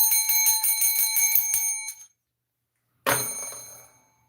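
Ding-dong bell sound effect, a rapid series of bright metallic rings that stops, falls silent for a second, then returns with one loud ringing strike that slowly fades.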